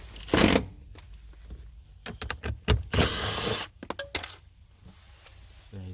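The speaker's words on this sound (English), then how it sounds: "Now we're using a 10mm socket." A 10mm socket wrench works the bolts of the rear right quarter window on a 2007-2013 Mercedes W216 CL: sharp metallic clicks and quick ratcheting bursts, with a few louder clanks, close by between quiet gaps.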